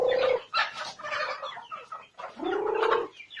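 Native chickens cluck and call loudly in close bursts, with a couple of longer drawn-out calls, at a farmyard feeding with rice, no talk heard.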